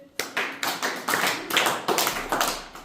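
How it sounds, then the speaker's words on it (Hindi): Children clap together in unison at a school book and bag distribution in a forest village, about a dozen sharp, evenly spaced claps close by with little talk. "एक्सीलेंट ताली जैसे मैंने तुम्हें सिखाई थी, क्लैपिंग करनी है ना?"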